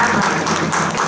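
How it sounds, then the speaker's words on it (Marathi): Loud, dense applause from a crowd at a kirtan during an akhand harinam saptah religious gathering, a brief burst of continuous clapping. "तुम्ही तुमच्यासाठी जोरदार टाळ्या वाजवा"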